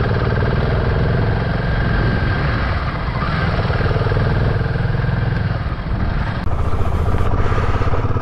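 A motorcycle engine idles steadily close by on a cold high-altitude ride from Tso Moriri toward Hanle in Ladakh, a continuous low chugging rumble that runs unbroken and loud, with no talking.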